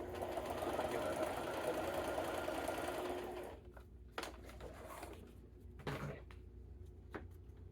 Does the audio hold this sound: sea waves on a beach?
no